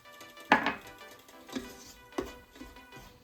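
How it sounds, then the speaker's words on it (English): Flour is being mixed into chicken in a pot, heard as a few separate close knocks and scrapes of a utensil against the pot, spaced about a second apart. "We're gonna get this mixed up."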